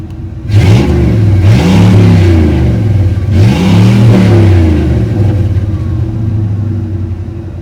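A Chevrolet Z71 truck engine, freshly fitted with a new connector, is revved loudly up close in two or three rising bursts, then settles back to a rough rumbling idle.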